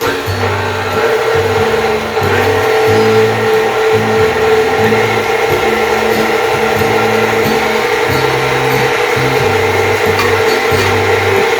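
An electric mixer beats oatmeal chocolate chip cookie dough, whirring steadily and close by. Its motor strains in a rhythmic, chugging pulse as the thick dough turns, running continuously without talk.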